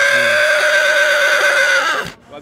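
A horse neighs loudly at a horse fair, one long sustained whinny with a strong tonal pitch that holds steady for about two seconds, then breaks off abruptly into near silence.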